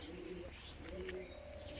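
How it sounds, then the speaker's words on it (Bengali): Soft, low cooing of Giribaz and Madras high-flying pigeons in a cage at close range, a few gentle coos over faint background noise with light chirps. "খাঁচার মধ্যে ছটফট করছে বেরোনোর জন্য পায়রা দুটি"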